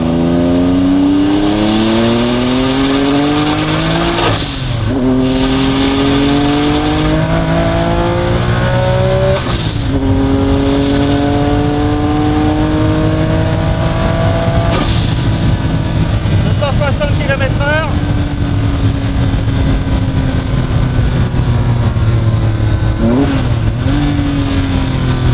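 A Porsche 9ff GT9 engine roars through repeated hard accelerations on a test drive, revs climbing steeply then dropping at each gear change, loud and close from inside the car, with a voice talking over it at times.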